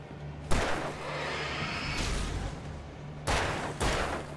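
Gunfire in the video game Alan Wake, a few loud booming shots with long reverberant tails, one early and two close together near the end.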